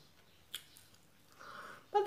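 Someone bites and chews a thick-wrappered roll dipped in vinegar, with faint, soft, moist chewing and a few small crunchy bites close to the mic in an otherwise quiet setting.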